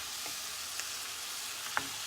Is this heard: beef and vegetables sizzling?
yes